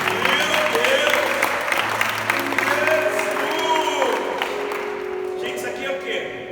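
A crowd claps and cheers, with voices calling out over the applause until it gradually fades.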